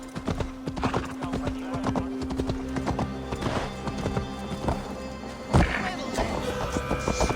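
Rapid, rhythmic hoofbeats of a galloping horse in Assassin's Creed Valhalla, with a neigh, clattering thumps and a sharp crash midway over steady background noise.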